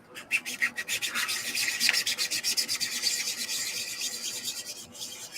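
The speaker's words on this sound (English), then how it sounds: "I don't mind hand sanding." Rhythmic rasping strokes of sandpaper rubbed by hand over an RC car body, back and forth at a steady pace, close up with no talking.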